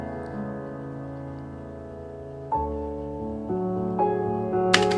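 A sampled track plays as gentle sustained harmonic tones, with new notes entering in steps that grow slightly louder toward the end.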